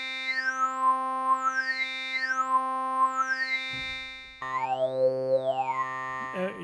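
Synthesized alto voice from SynthMaster 3 singing a vowel on A, then shifting to E, with a bright tone whose formant sweeps rise and fall in a slow wavering cycle, sustained and alone.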